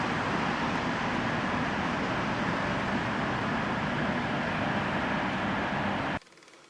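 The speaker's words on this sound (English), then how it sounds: "you can hear the noise from the traffic behind me" Dense, continuous city-centre road traffic roar in Britain, steady and fairly loud, with no voices, cutting off abruptly near the end.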